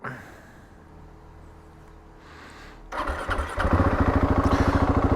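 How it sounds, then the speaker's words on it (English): KTM 701 motorcycle engine starting: quiet ambience, a starter whir and catch, then the single-cylinder settles into a loud, close, evenly pulsing idle. "Let's just get this turned on, get the bike fired up."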